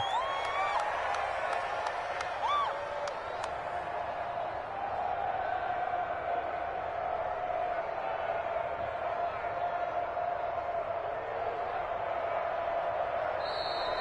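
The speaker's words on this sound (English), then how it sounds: "And the home crowd applauding." Home crowd applause in the Madden 21 football video game after a Tennessee Titans win over the Raiders, a steady wash of clapping and cheering held at an even level for the whole stretch.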